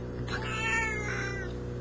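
A cat gives a single drawn-out meow, fairly faint over a steady background hum indoors.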